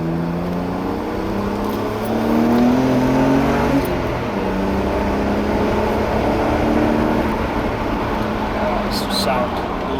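A BMW 130i with a naturally aspirated six-cylinder engine pulls at low revs on an open road, its tone rising steadily then settling into a sustained drone, heard from inside the car with no voices.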